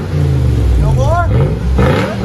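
Close, loud revving from a Lexus GX470 4.7L V8 fitted with an aftermarket exhaust, a deep throaty rumble swelling in one quick blip before settling back to idle.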